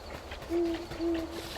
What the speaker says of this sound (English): And I do hear an owl right away.